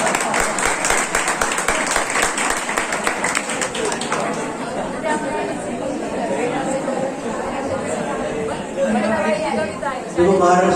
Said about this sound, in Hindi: देखो महाराष्ट्र के लोगों ने तालियां बजाती और हंस रहे हैं